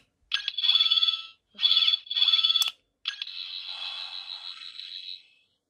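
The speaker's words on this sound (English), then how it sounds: "It has the same 5 sound effects as the online version" Electronic sound effects from a 14th Doctor Sonic Screwdriver toy, standard retail version: three warbling, buzzy tones of about a second each, separated by short gaps, then a longer trilling tone that gradually fades, all close and clear.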